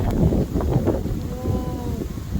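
Strong wind from Winter Storm Elliott buffets a farmstead, a loud, rough, continuous rumble close to the microphone with gusting surges and a faint tonal whine midway.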